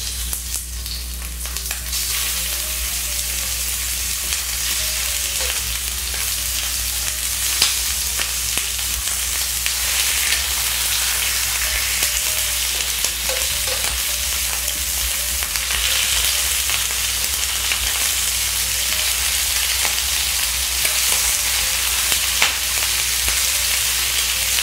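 Free-range chicken pieces sizzling in a pan with ginger slices: a loud, continuous crackling hiss that swells slightly over time, with faint occasional stirring and no talk.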